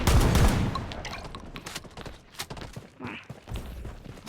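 Gunfire from the online shooter Blood Strike: dense bursts of rapid shots and thuds, loud and close at the start, then scattered, uneven reports that keep coming throughout.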